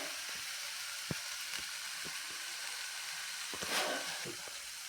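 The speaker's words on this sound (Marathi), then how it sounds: "मसाले असू देत किंवा कांदा असू देत लसूण असू देत छान परतला जाणं अतिशय गरजेचं आहे" Spices, onion and garlic sauté in a pan with a steady, close hissing sizzle, broken by a few faint clinks and scrapes of stirring, swelling briefly near the end.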